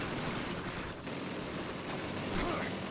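Gunfire in Call of Duty 2, a dense, continuous volley of shots from several weapons crackling steadily for about three seconds, with a faint voice underneath.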